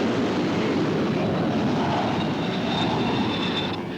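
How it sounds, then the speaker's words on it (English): Jet engines roar on an aircraft carrier deck during launch and landing operations, a dense, loud, continuous rushing scream with a high whine rising near the end, heard alone. "The jet engines are screaming from every direction."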